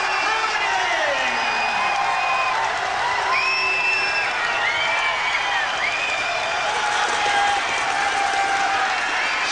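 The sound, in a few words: prolonged applause and standing ovation for boxer Jess Harding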